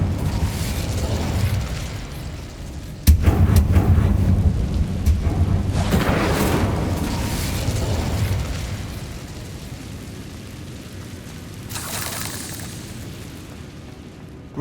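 Incendio fire spell cast in Hogwarts Legacy: a loud booming burst of flame at about three seconds, followed by a long roaring, crackling rumble that slowly fades, with a second softer whoosh later.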